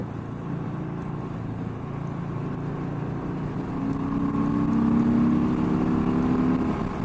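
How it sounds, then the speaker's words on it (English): A big truck roars past a 2021 Harley-Davidson Sport Glide on an open road, its rumble swelling loud and near over the motorcycle's steady engine and wind noise before easing off. "Whoa, big truck."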